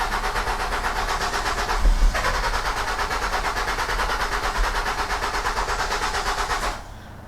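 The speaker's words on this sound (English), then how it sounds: "Yeah, the engine crank now" Car engine cranking without catching, a steady rapid chugging rhythm of the starter turning the motor over for about seven seconds, loud and close, then cutting off abruptly.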